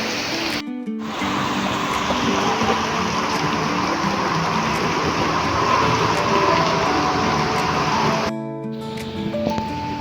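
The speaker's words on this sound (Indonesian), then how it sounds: "Hujan guys, hujan." Heavy rain pouring down at Babakan Siliwangi, a dense continuous hiss of falling water that swells to a steady loud wash, with brief cuts to faint background tones at the start and end.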